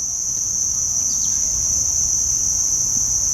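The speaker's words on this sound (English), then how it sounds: "other than like the locusts and the crickets, there's no sound" Crickets and locusts chirp at a riverside campsite, a steady, high-pitched insect drone running without pause alongside faint low background rumble.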